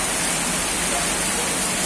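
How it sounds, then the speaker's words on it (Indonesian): Heavy rain falling at night, a dense, steady broadband hiss that fills the whole clip with no gaps or distinct drops, loud and close like a downpour on a roof or street. "ini cuaca lagi hujan-hujannya, malam ini juga hujan gitu"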